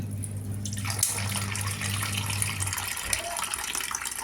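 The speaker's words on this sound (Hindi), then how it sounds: "ये हमारा आरओ है, इससे पानी इसमें करने लगी हूँ" Steady stream of water running from an RO purifier tap into a vessel at home, a continuous close splashing fill lasting the whole stretch with no speech.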